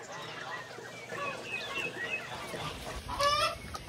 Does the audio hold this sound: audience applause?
no